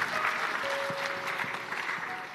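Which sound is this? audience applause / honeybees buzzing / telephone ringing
audience applause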